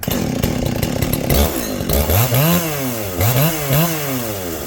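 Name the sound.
vintage 77 cc chainsaw running and cutting wood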